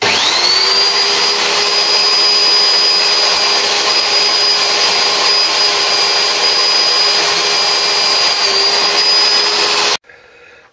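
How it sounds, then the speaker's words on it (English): A power drill clamped to a workbench spins a wire wheel attachment to clean old lawn mower bolts. It gives a loud, steady high-pitched whine for about ten seconds, then stops abruptly. "clamp it to the bench, stick a wire wheel attachment in it, and away we go."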